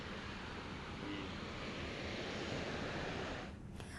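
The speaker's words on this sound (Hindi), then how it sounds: "पहाड़ में हो रही बारिश से नदी नाले उफान पर हैं" Swollen river rushing in spate after heavy mountain rain, a steady broad roar of churning water held at an even level throughout, with no voices.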